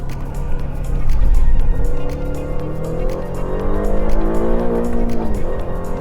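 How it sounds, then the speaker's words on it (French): A 2025 Aston Martin Vantage powers out of a corner with the rear stepping out slightly, its engine note climbing loud and close in rising harmonic tones over road and tyre noise. "c'est d'accélérer en sortie de virage et de sentir un peu l'arrière cherche à se dérober, comme ici"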